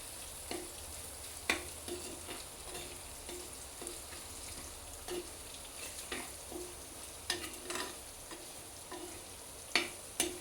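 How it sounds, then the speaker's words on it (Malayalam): Fish curry masala paste frying and browning in a pan, a steady soft sizzle broken by repeated scraping stirs of a spoon, close and fairly quiet, with no talk. "മീൻകറിയുടെ അരപ്പ് ഇങ്ങനെ മൊരിഞ്ഞ് വന്നുകൊണ്ടിരിക്കുകയാണ്"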